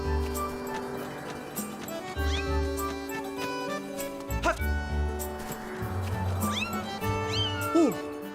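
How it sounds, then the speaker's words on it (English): A cat-like creature in The Legend of Zelda: Skyward Sword gives several rising, wavering meows over a steady game music backdrop, with a few sharp thumps in between. "Is that a cat? Well, it's something like a cat."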